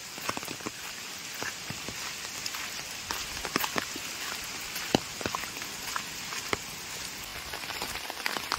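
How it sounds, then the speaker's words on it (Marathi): Heavy monsoon rain falls in the Konkan countryside beside rice paddies, a dense steady patter on surfaces with scattered louder drops and splashes close by, continuous throughout and without talk. "गेले 8 दिवस कोकणामध्ये जोरदार पाऊस आहे"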